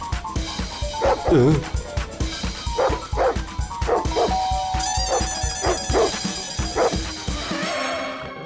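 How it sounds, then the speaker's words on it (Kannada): Cartoon dog barking in a 3D animated Kannada comedy episode, a series of short yips and barks repeating through the scene, with voices talking over and between them. "ಅವ್ರು ನಮ್ಮ ನಾಯಿಗಿಂತ ದೊಡ್ಡ ನಾಯಿ ತಂದಿದ್ದಾರೆ"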